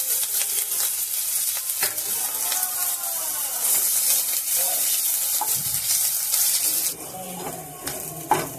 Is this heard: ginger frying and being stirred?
yes